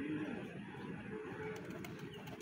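Jalali pigeons cooing softly on a rooftop, low murmuring coos repeated steadily over a constant background hum, with no other clear sounds.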